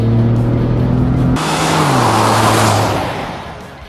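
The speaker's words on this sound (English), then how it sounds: "With its acceleration, 0 to 60 miles an hour in just over 6 seconds." A Ford F150 pickup truck with a 3.5-litre engine accelerates hard, loud and near, its engine tone climbing through a gear change before a broad rushing roar that fades as it pulls away.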